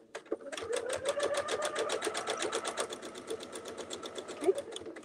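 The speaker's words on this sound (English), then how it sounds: "and he'll sew all the way around." A sewing machine stitches around a clamshell quilting template in a fast, even run of needle strokes, the mechanical rattle steady and close for the whole stretch with no talking.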